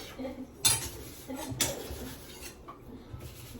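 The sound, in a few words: washing dishes, pots clinking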